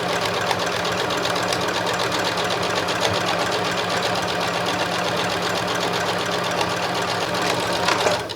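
A sewing machine runs steadily, stitching around the perimeter of a fabric reversible shoulder bag, its fast motor hum and needle chatter continuous and close for the whole stretch.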